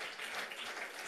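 Quiet, brief applause from an audience honoring the founders of a DFCG program, a soft wash of distant clapping lasting only about a second.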